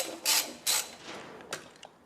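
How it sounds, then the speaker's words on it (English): An imperial socket ratchet works bolts out of an engine, giving three or four sharp, close clicking bursts separated by short pauses and trailing off into faint ticks. "start whipping these here bolts out"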